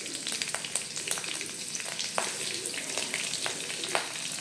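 Green chillies frying in hot oil in a home kitchen pan, a close crackling sizzle with scattered sharp pops and spits over a steady hiss, no voices.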